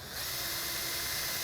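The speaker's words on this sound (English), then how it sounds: "So we're just going to drill some holes." A power drill bores holes into the closed end of a plastic pipe end cap, building an RV holding tank flush wand; a steady, close whine runs throughout with no talk.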